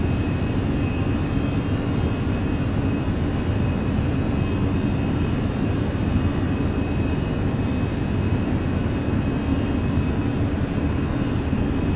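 Engines of a Fenix A320 airliner in the flight simulator game Microsoft Flight Simulator, climbing with flaps clean: a steady, unbroken roaring drone that stays level throughout, with no talk.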